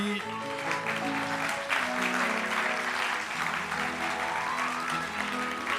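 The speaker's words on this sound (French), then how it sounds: "ces applaudissements s'adressent à l'ensemble de notre tablée et non pas seulement à Lucille Schmitt" Studio audience at a French political talk show applauds softly but steadily. The sustained clapping sits under a faint murmur of voices.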